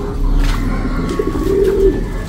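Breeder pigeons in a loft coo nearby, low soft throaty calls rolling together over a steady background hum.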